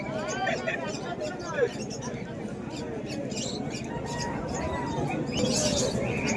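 Pigeons at a busy pigeon market in Beldanga, with faint coos and squawks buried in a steady hubbub of crowd chatter and nearby voices throughout.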